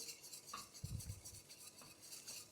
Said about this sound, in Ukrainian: Гарно, ретельно перемішую.